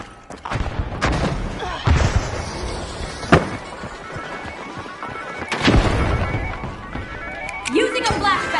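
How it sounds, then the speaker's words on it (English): A flashbang grenade detonates in a first-person shooter match, one of several sharp bangs and crashes scattered through a busy stretch of game audio, heard under continuous commentary voices. "Using a flashbang."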